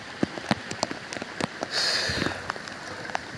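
Rain patters at Raigad fort in the hills, with scattered sharp drop hits on a close surface and a brief louder gust of hiss midway.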